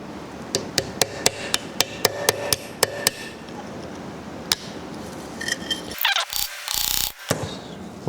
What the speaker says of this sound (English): Wonder if I can come in here and chisel some of this